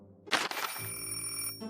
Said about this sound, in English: Ah, the phone rings.